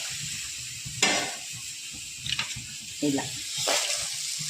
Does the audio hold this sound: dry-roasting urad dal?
yes